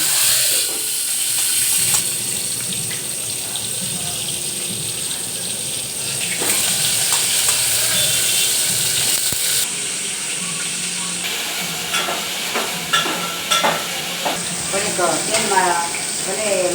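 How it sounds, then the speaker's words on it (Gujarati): Garlic and asafoetida sputter and sizzle in hot oil as a tempering for a Gujarati drumstick curry, a steady close frying hiss with bursts of crackle and spoon stirring throughout. "લસણ નાખી વઘારશું."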